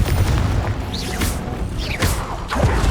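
Confringo spell blasts in Hogwarts Legacy, a few sharp booming explosions with whooshing tails landing at roughly one-second intervals over a loud, continuous rumbling combat bed.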